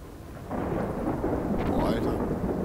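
Thunder from a lightning storm in Splinter Cell: Blacklist, rising into a loud, rolling rumble over a steady wash of rain and fading slowly.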